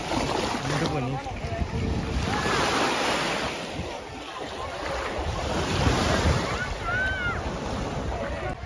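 Surf washing ashore at Mondello beach in Palermo, Sicily, a steady broadband wash mixed with gusty wind buffeting the microphone, with faint voices and outdoor activity in the background.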